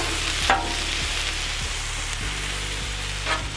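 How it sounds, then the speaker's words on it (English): Cabbage and sausage frying on a Blackstone griddle, a continuous loud sizzle with a couple of sharp scraping stirs of the spatula and a low steady hum underneath. "Oh, that sizzle, and that smells so good."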